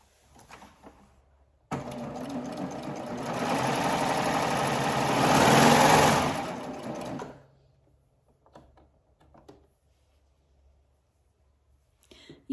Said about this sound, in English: turn my garment all the way to the back of the machine to serge off